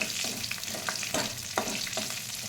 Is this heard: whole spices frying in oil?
yes